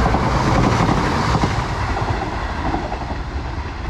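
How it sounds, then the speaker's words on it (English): Passenger train on the Scarborough to Hull service running through a quiet station, a loud, steady rumble of wheels and carriages close by with a faint clickety-clack, with no one speaking. "passing through now, we've got a service to Hull from Scarborough"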